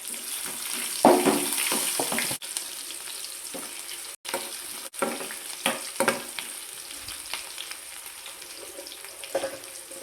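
Curry leaves crackle and sizzle steadily in hot oil, a continuous close frying hiss with scattered pops and brief stirring sounds throughout.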